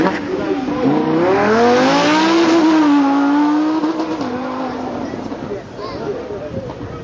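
A Lamborghini Huracán supercar drives past close by at a supercar event, its engine note rising and falling loudly before fading away, while a person talks over it.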